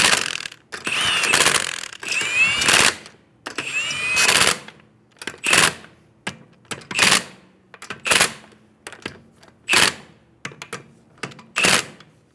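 Lug nuts being snugged down on a 2011-2014 Hyundai Sonata wheel, a series of short, sharp clicking and ratcheting bursts separated by brief pauses, close and fairly loud, with no talking.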